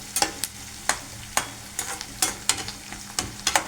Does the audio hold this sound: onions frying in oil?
yes